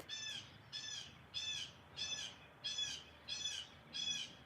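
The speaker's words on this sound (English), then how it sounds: "there's your squawking bird confirming it" Crow caws from a squawking bird, seven harsh calls repeating at an even rhythm, fairly close and clear over quiet background with no talk.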